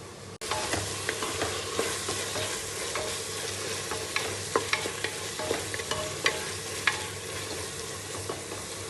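Tomatoes cook in a pan for mushroom biryani, a steady close sizzle broken by regular scraping and tapping as a spoon stirs them through, with no voices.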